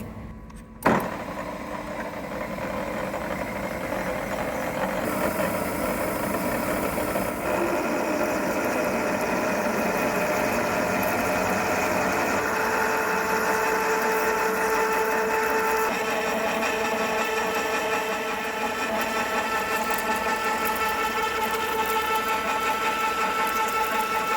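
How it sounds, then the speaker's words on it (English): A Sutton 14mm high-speed drill bit boring a hole in a metal workpiece on a large lathe, a steady droning whir with a whining tone that holds for over twenty seconds. "Now I'm going to use a Sutton 14mm high-speed drill to drill the hole."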